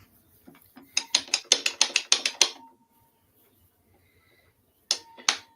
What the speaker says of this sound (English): that what you're hearing is it has like a ratchet gear on the bottom here